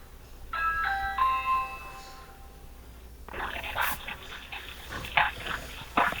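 A front-door doorbell rings twice in quick succession, bright chime tones ringing out clearly, followed by a dog barking and whimpering nearby in a house.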